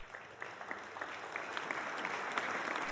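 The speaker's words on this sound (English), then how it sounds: "a small like applause in the background is too much work for Portia to do" Soft, steady applause patters faintly in the background, many hands clapping at a distance.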